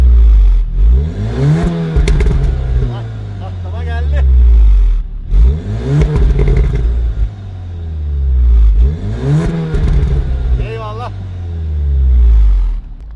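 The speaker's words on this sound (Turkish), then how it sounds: "Peki şöyle bir bize bir egzoz sesi versen." A modified 367 hp VW Golf R in race mode revs hard three times in repeated bursts, the loud exhaust roar rising and falling with crackles between, under occasional talking.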